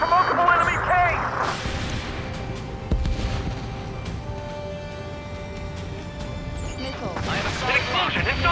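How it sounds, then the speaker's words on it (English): Heavy tank cannon blasts boom and crash amid rumbling battle noise in the video game Ace Combat 7, with bursts of metallic clatter and shouted voices over the din. "We're taking fire from multiple enemy tanks!"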